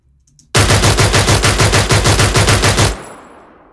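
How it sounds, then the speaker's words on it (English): German MG08 machine gun firing one sustained burst of about fifteen rapid, evenly spaced heavy shots, very loud and close, stopping abruptly before a fading echoing tail. "next up is the German MG08 machine gun"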